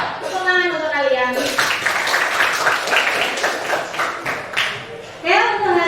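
Students in a maths classroom clap for several seconds in a dense, close burst, with a voice speaking just before and after.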